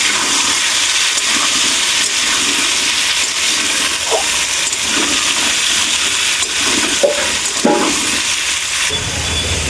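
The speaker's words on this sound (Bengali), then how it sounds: "দিয়ে ওটাকে আমি সুন্দর করে ভেজে নেব" Pieces of elephant foot yam fry in hot oil with salt and turmeric in a kadai, a loud, continuous sizzling hiss that holds steady throughout.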